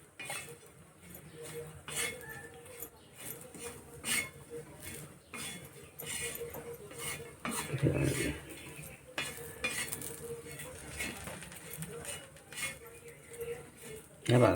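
Grated coconut and garlic cloves are stirred and lightly roasted in a pan, with a spoon repeatedly scraping and clinking against the metal over a soft, continuous sizzle, close and fairly quiet.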